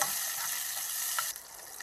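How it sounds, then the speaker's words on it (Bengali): Chopped tomato and slit green chillies frying in hot oil in a pan, a steady close sizzle with light stirring scrapes that drops off near the end. "এবার টমেটো কাঁচা লঙ্কাটাকে ভালো করে ভেজে নিচ্ছি।"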